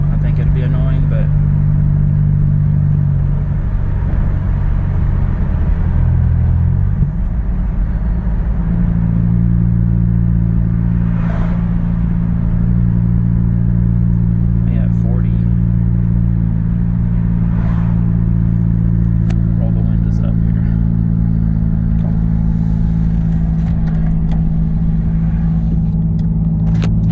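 Cabin drone of a 2012 Ford Fusion 2.5L with a Magnaflow 10416 exhaust while driving: a steady low rumble that shifts pitch around the seventh second, then holds an even hum, with a voice talking over it.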